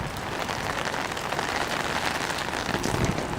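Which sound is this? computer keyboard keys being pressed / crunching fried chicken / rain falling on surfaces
rain falling on surfaces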